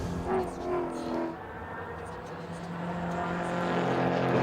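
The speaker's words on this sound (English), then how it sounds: "Here is Nash Morris in the Mark Griffith Mercedes AMG GT." A Mercedes AMG GT race car in a GT4 circuit race at Sydney Motorsport Park, its engine droning steadily and rising toward the end, with a commentator talking over it at first.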